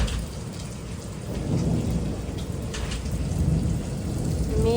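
Heavy rain pours steadily under a cloud-covered sky, with low thunder rumbling beneath the dense hiss of drops on surfaces, loud and continuous, with no voices.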